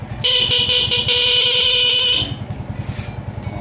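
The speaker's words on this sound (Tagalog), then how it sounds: "Busina nagkaroon." A loud, steady electric horn on a Suzuki Raider J FI 115 motorcycle blares for about two seconds over the throbbing idle of its engine, which keeps running after the horn stops.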